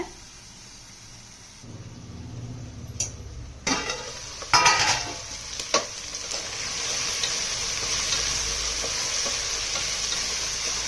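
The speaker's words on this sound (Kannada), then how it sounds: "ಒಗ್ಗರಣೆಗೆ ಒಂದು 5 ನಿಮಿಷ ದೊಡ್ಡ ಉರಿಯಲ್ಲಿ ಬೇಯಿಸಿ ಅವರೆಕಾಳು ಬೇಯಬೇಕು." Fresh field beans (avarekalu) fry in a tempering over high flame, a steady hiss of sizzling oil broken by a few sharp clinks and scrapes of stirring in the pan.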